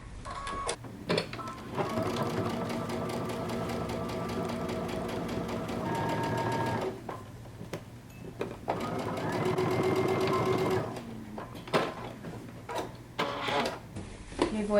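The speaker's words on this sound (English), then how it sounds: "we're going to stitch using 5/8 of an inch seam allowance." A sewing machine stitches a jumpsuit sleeve seam at 5/8 inch allowance, running in two long, steady whirring stretches close by with a short pause between them.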